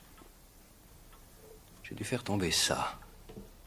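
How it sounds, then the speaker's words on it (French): A pendulum clock, restarted after a saw blocking its pendulum was removed, ticks faintly and evenly in a quiet room, while someone speaks briefly over it. "Écoutez, l'horloge marche."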